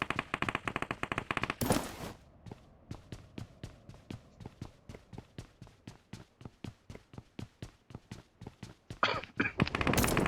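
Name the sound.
gunfire in a video game (PUBG Mobile)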